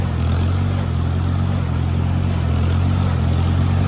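Ford gas tractor engine running steadily nearby during hay raking and baling, a constant low, throaty drone with a thrumming idle-like beat and no voices.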